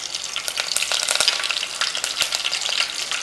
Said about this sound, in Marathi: तडतड असा फोडणीचा आवाज यायला पाहिजे.